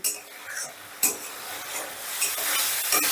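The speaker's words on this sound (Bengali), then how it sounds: "এবার এটাকেও আমি আলু দিয়ে প্রায় দু মিনিটের মতন কষে নেব" Already-fried potatoes stirred with a masala spice paste in a pan, a spatula scraping in quick strokes over a hissing sizzle that grows fuller and louder toward the end.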